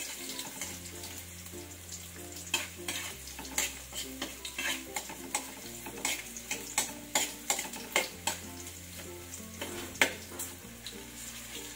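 Ginger browning in a pan for chicken tinola, a continuous frying sizzle broken by rhythmic scraping strokes of a spatula, with a steady low hum and background music underneath.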